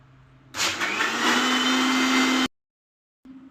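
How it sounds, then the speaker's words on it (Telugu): A mixer grinder runs loud and steady for about two seconds, blending buttermilk with ginger, curry leaves, green chilli, cumin, coriander, salt and lemon juice, then cuts off abruptly into silence before a faint hum returns. "మిక్సీ పట్టు"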